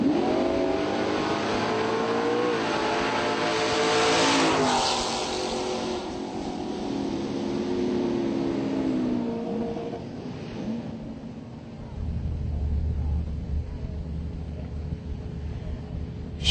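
Drag race cars, one of them a Camaro, roaring off the line at an NMCA/NMRA event, a loud sustained engine blast that fades as they pull away down the strip, with a deep rumble returning near the end.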